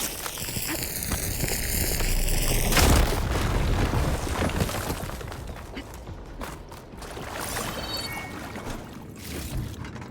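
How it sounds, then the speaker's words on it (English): A heavy explosion from blowing up a fire gleam in the video game Horizon Forbidden West: a sudden loud boom over a soft musical tone, then a long, dense rumble of debris and crackling that slowly fades. "Should be able to blow up that fire gleam."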